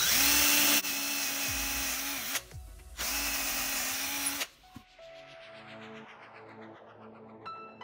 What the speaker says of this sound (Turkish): eski bir matkap motoruyla bunu çevireceğiz